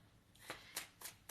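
Playing cards shuffled by hand in four quick riffling bursts, soft and close with brief pauses between them, no voices.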